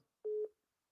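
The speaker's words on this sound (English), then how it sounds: "Oh, David hung up" A single short telephone line tone sounds after a caller hangs up, a clean steady beep lasting about a quarter second, isolated in silence.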